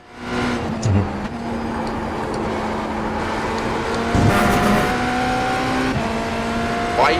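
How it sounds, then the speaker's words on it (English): A BMW LMDH race car engine in the iRacing sim drones steadily with a sustained tone, shifting pitch a few times, with a brief scuffing burst midway and quiet background. "haven't heard that sound in a while. Sound of the LMDH."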